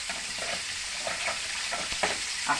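Tuna fish frying in a pan, a steady loud sizzle throughout with occasional stirring scrapes and spatters.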